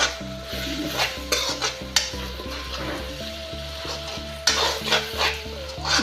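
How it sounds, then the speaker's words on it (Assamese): Spices frying in hot oil with a splash of water for a chickpea chaat, giving a steady, close sizzle and crackle under a background melody of music. "এয়া দেখিছে তেল বিৰিঙিছে"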